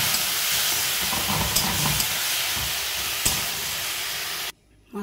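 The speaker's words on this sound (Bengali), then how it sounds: "সামান্য একটু জল দিয়ে দেবো যাতে মশলাটা তলায় লেগে না যায়।" Spice paste for a loach fish (lote) jhuri sizzles steadily in a pan after a splash of water, giving a loud continuous hiss with faint stirring knocks, cutting off abruptly near the end.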